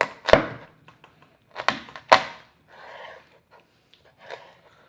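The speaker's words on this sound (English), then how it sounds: "I'm just gonna cut it right in the middle," A knife cuts through raw chicken breast on a board, giving a few sharp chopping thunks separated by pauses, close and fairly loud, followed by softer handling sounds.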